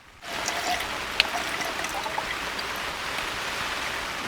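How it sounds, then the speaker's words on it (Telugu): Heavy rain falls steadily at night on a camping tent, a dense, even patter of drops that starts abruptly and holds at a constant level, with one brief sharper tap partway through. "వర్షం మటుకు కంటిన్యూ కురిసేస్తూనే ఉంది"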